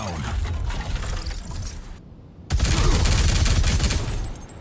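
A hero's turret deploying in the video game Marvel Rivals, loud mechanical clatter and bursts of rapid firing, with a brief drop to near silence before the noisy, gunfire-like racket resumes at full strength.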